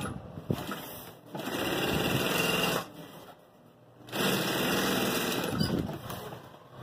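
An electric sewing machine stitches grosgrain ribbon onto a fabric folder in two sustained bursts of rapid whirring, separated by short pauses, loud and close with no talking.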